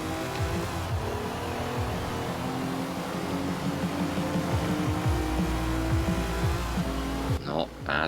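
A stock 2020 Jeep Gladiator Rubicon engine in Forza Horizon 4, heard from the bonnet view, drones and revs loudly and steadily with rising and falling pitch as the truck accelerates and shifts, then cuts off abruptly at the end.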